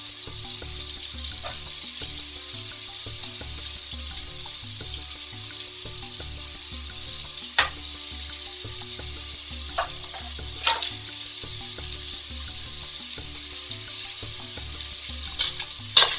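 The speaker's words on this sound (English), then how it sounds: "This is to get the onion nicely sauteed." Chopped onion and three chilies sautéing in a pan with salt for chana masala, a continuous close sizzle under occasional sharp clicks of a spoon stirring, no talking.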